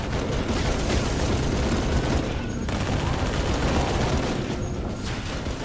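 Gunfire in Halo 3 on Xbox 360 aimed at a Phantom dropship, a dense, loud, sustained barrage of shots and rumbling blasts filling the whole stretch without pause.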